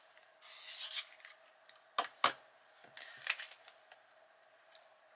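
A coloured pencil turns in a small handheld sharpener, giving faint close scraping grinds in short bursts with a few sharper clicks between them, and no one talks.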